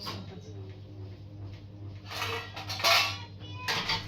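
Pots and dishes clatter and clink in a few bursts against a low steady hum, with someone talking nearby.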